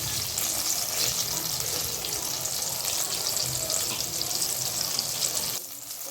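Eggplants with their stems left on sizzling steadily in hot oil in a wok, a dense, continuous crackle and hiss close up, fading slightly near the end.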